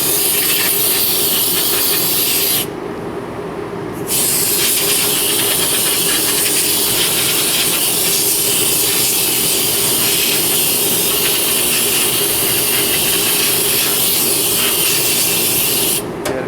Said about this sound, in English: I'll rinse, dry it off with some nitrogen.